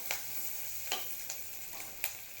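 Dried prawns frying in a pan: a steady soft sizzle with a few sharp spatula scrapes or stirs spaced across the moment, fairly quiet and close, no voices.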